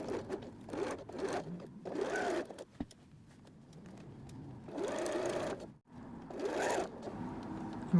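A sewing machine runs in short bursts of rapid stitching, pausing briefly between runs, fairly quiet and close with no voices.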